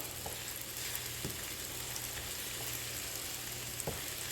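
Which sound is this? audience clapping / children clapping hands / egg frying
egg frying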